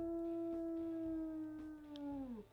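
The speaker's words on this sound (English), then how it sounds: "And as for his howls, we'll go ahead and listen to those." A single wolf howl from the video game WolfQuest: one long, deep, steady tone with soft harmonics that holds for over two seconds, then bends downward and fades at the end, heard alone and fairly close.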